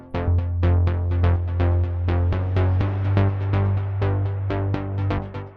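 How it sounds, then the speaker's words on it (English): Layered synth basses in a melodic house track, one an echoed Diva patch, play together: a sustained deep low tone under rapid plucked repeating notes, loud and continuous with no voices. "So the basses together sound like this."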